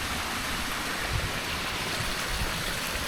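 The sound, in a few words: small spring stream water babbling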